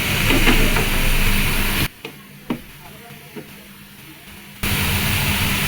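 Radish greens frying with shrimp in a pan give off a loud, steady broadband sizzle that cuts out for a few seconds, leaving quieter scattered clicks and taps, then resumes at full strength.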